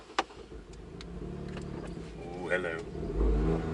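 A 2018 Ford Fiesta ST driving, its engine a steady low hum that swells and revs toward the end, with a voice speaking over it and a few clicks inside the cabin.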